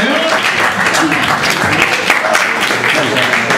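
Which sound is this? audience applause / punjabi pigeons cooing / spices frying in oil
audience applause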